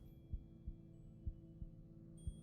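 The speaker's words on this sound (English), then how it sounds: "I don't like how there's like a heartbeat sound, isn't there?" A low, soft heartbeat sound effect from the detective adventure game Jenny LeClue thumps steadily about five times over a faint ambient hum, with no talk.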